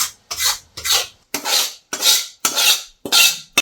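Seven rhythmic scraping strokes as a spoon stirs a thick jaggery mixture for gond laddu in a pot, close and distinct with short pauses between.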